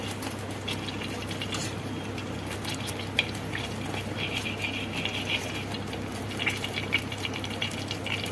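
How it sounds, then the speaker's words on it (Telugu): Cashews frying in ghee in a kadai, a soft continuous sizzle with light crackles and occasional stirring clinks, steady and close, over a low background hum. "జీడిపప్పు వేగించుకుందాం."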